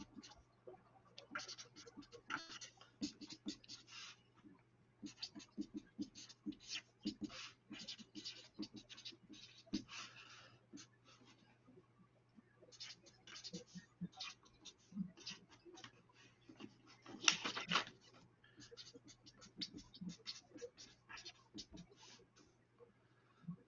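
A marker squeaks and scratches across a whiteboard in a lab class, quiet rapid strokes in bursts with short pauses, faint throughout with a steady low hum beneath.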